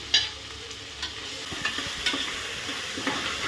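Onions fry in a pan with a steady low sizzle while a spoon stirs them, giving a series of light scraping taps spaced through the clip, close and without talk.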